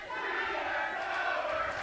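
A wrestling crowd at a pro wrestling show cheers and shouts in a sustained roar, moderately loud and steady throughout, with no clear talk on top.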